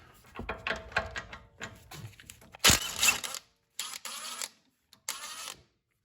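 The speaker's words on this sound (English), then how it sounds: "since I have an impact, I will just use that and make quick work of this" An impact wrench loosens a nut on the suspension of a VW Tiguan during a lowering-spring install, in a series of short rattling bursts separated by pauses, fairly close and loud.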